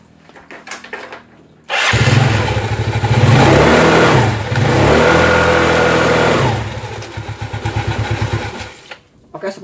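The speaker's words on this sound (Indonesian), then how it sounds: "hidupkan mesin, pencet rem belakang, lalu kita tarik gas" An automatic scooter engine, tested for sluggish CVT performance, starts abruptly and revs up and down repeatedly with the rear brake held, loud and close, sputtering as the throttle eases off near the end.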